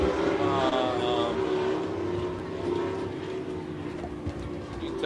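Race car engines drone steadily during the final lap of a cold-weather race between cars 57 and 4, a continuous mid-distance roar at easy, less than full throttle with a faint voice underneath.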